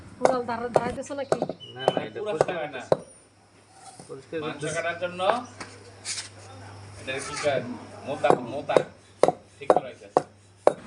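Sharp chopping knocks strike a wooden tree stump being readied for cutting meat at a village Eid sacrifice, irregular blows coming in bursts, mostly under and between steady talking voices.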